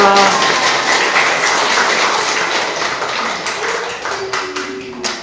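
Congregation applauding in a church, a steady wash of many hands clapping that fills the room and holds at an even level, gradually thinning toward the end with a few faint tones underneath.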